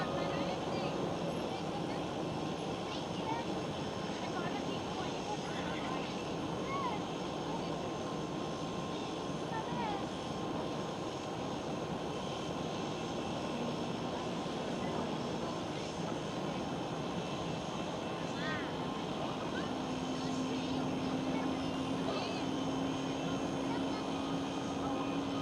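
KLM Cityhopper Embraer E195-E2 jet at Amsterdam Schiphol, a steady engine roar running throughout with a rising whine toward the end, continuous and fairly even in loudness, with voices talking over it.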